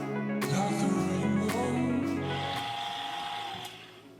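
An electric mixer whirs steadily through carrot cake batter as shredded carrots are folded in, a close motor hum with a few clunks, its pitch shifting partway and fading toward the end.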